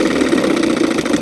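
An outboard motor idles steadily at low RPM, a loud, close, even mechanical hum with a slight knocking pulse and no talk.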